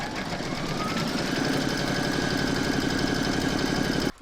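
An embroidery machine stitches round number 4 of an in-the-hoop crazy patch evening bag, securing two fabrics; a steady close mechanical whir with fast rhythmic needle chatter runs continuously, then cuts off abruptly at the end.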